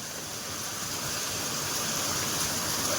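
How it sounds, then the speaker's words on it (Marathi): Heavy monsoon rain pours down in a dense, unbroken roar that holds steady from start to finish, close and loud, with no voices. "बघा डायरेक्ट मुसळधार पाऊस आहे."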